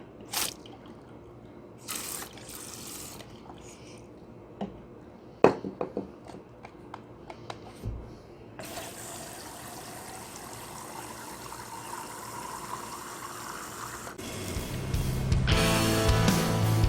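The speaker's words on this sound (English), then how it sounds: "Top the rest off with water." Scattered drips and small splashes, then a steady stream of water pouring into a container, growing louder and fuller toward the end.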